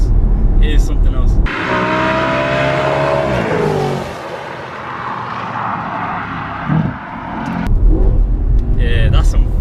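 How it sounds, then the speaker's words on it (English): An Audi RS4 with a high-revving V8 roars close by, climbing through a long rising rev before easing off and fading, with someone talking loudly before and after the engine run. "I'll give you guys some nice V8 engine noise"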